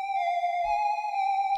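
Whistle sample from a tech house drum kit: a bright, steady pitched tone held for over a second, loud and alone, with a brief thump partway through.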